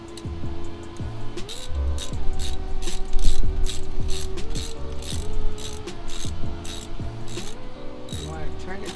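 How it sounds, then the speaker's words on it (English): Ratchet wrench clicks rapidly while tightening a spark plug during a Toyota 4Runner tune-up, close and busy metallic ratcheting in repeated bursts with occasional tool clatter. "You want to turn it till it tightens."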